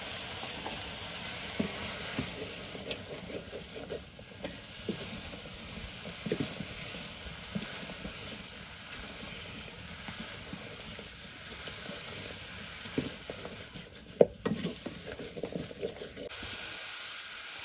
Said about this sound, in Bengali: মাছের মাথা বাটা পানি গিলা দিয়ে আমি মশলাটা কষাই নিতেছি